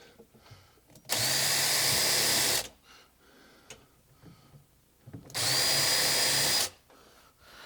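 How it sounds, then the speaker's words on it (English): Two steady bursts of a power drill boring pilot holes into a wall cabinet during assembly, each about a second and a half long and separated by a quiet pause with faint handling noise. "Okay, I'll do my 2 pilot holes."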